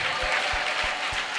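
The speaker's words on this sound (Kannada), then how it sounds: "ಅರ್ಥ ಮಾಡಿದರೆ ಚಪ್ಪಾಳೆ ಹೊಡೆದು ಸ್ತೋತ್ರ ಮಾಡು" Congregation at a Sunday church service clapping together, a broad wash of applause with four evenly spaced low thumps marking a steady rhythmic beat.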